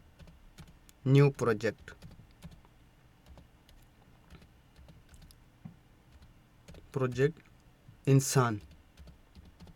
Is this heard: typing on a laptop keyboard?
yes